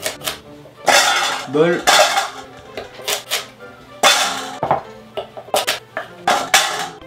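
Rainbow carrots are chopped into bite-size pieces with a kitchen knife on a board, giving loud, sharp clacks in irregular bursts with short pauses between them. A voice speaks briefly once.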